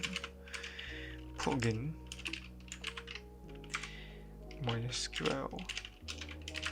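Keystrokes on a computer keyboard as a command is typed, a steady run of close, crisp clicks with brief pauses, while someone talks over them throughout.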